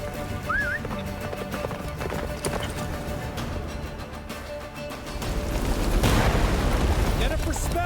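The horse Roach gallops in The Witcher 3 video game, with steady hoofbeats under a continuous roar of wind and game effects. A voice speaks briefly, a whinny rises early, and the rumble swells louder toward the end.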